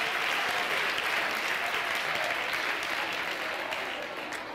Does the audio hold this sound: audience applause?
yes